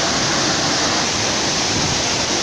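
The Salto do Pantano waterfall, with its 70-metre drop, roars as a loud, dense and unbroken wash of falling water heard from close by, with no pauses and no voices.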